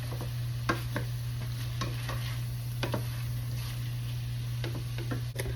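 Onions cook in a pan, giving a soft, steady sizzle with a low hum underneath, broken by occasional light stirring scrapes and taps.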